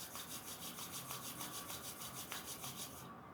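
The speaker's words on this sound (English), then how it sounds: "Now slowly bring your hands down. Rub both the palms nicely." Two palms rubbing briskly together, a close rhythmic swishing friction with steady back-and-forth strokes, quiet and alone until it stops near the end.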